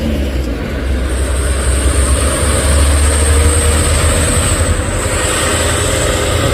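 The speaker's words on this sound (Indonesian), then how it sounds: "Ada truk sayur juga bosku." A vegetable truck grinds up a steep hill road, giving a loud, continuous low engine rumble with broadband road noise, steady and close for several seconds.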